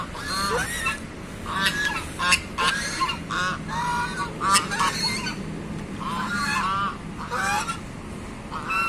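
Geese honking loudly, repeated harsh nasal calls in irregular bursts, several overlapping and close, standing out against a constant background hiss.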